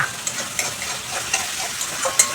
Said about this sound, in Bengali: আবারও 1 মিনিট নাড়াচাড়া করে নিচ্ছি।